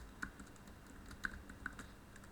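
Someone types a phone number into a form field on a computer keyboard, producing a handful of faint, irregular key clicks in a quiet room, with no talking.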